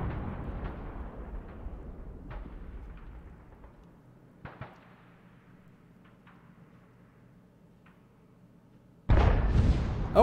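The Object 268 tank destroyer in World of Tanks fires its gun: a heavy, booming low blast at the start that slowly rumbles away, a couple of faint thuds midway, then a loud abrupt burst of noise near the end.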